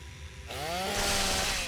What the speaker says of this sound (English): mini chainsaw